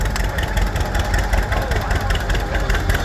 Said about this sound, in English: The 1946 John Deere Model H. Real pretty restored tractor.